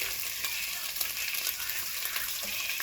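Garlic frying in oil, a soft continuous crackling sizzle with small scattered pops, fairly quiet and close, with no talk over it.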